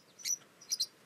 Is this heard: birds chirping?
yes